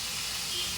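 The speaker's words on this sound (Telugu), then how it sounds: "పప్పు అయితే ఉడుకుతుంది." Gongura dal simmering in a pot, giving a steady, close hiss with a soft bubbling undertone that runs unbroken through the brief moment.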